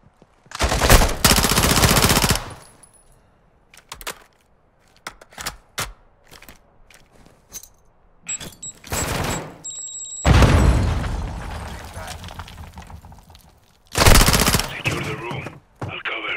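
Gunfire in the video game Call of Duty Modern Warfare 2, with loud bursts of automatic fire and single shots coming in several clusters, broken by short quiet gaps and sharp electronic tones.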